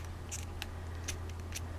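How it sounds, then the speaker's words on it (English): Scissors trimming the neck skin while a fishing fly is tied, a few quick faint snips over a steady low hum, with no talking. "Trim this a little bit. These scissors."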